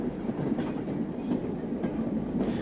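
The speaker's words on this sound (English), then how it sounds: "A Mansell S15, number 30833, heads a parcels train out of these docks." A Maunsell S15 steam locomotive, number 30833, hauls a parcels train out of the docks with a steady, loud rumbling roll of wheels and cars close by, continuous throughout.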